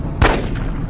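A single loud gunshot in the survival video game DayZ, a sharp close blast followed by a brief rumbling tail, with no talk over it.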